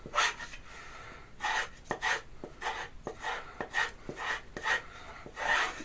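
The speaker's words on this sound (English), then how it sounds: "I'm just going to clean all of this off of with a square" A square, sharp knife spine scrapes compound off a hanging leather strop in repeated strokes, each a short rasping burst with a light tap at the start, loud and close with brief pauses between passes.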